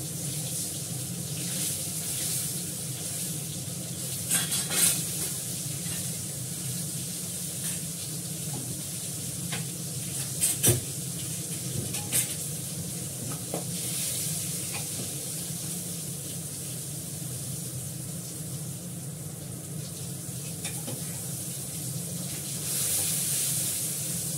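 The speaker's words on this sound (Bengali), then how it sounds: "পটল খুব ফাটে, আর এখন সবই ফাটে" Pointed gourd (potol) frying in a pan, a steady sizzling hiss throughout with occasional sharp pops and spatters standing out, close by and fairly quiet, with no talking.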